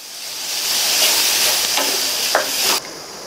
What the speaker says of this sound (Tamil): அடுத்து இதில் ஒரு டேபிள் ஸ்பூன் அளவுக்கு தேங்காய் துருவல் சேர்த்துட்டு நல்லா மிக்ஸ் பண்ணி விட்டுட்டு